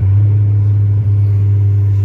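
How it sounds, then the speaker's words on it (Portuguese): A turbocharged Chevrolet Corsa engine holds a steady, close, low droning hum that dips very briefly midway, then carries on evenly. No one talks over it. "o bagulho dessa turbina enche mó rápido, mano"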